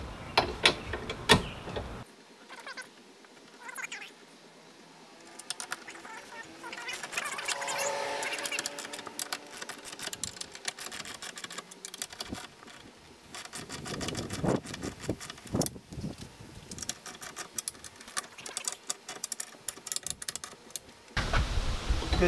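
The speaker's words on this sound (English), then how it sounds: "I'm going to try to tighten these up" A Rotopax fuel pack's mounting bolts are tightened evenly onto a Prime Design ladder on a van, giving repeated ratcheting and mechanical clicks of moderate loudness with brief pauses between turns and no talking.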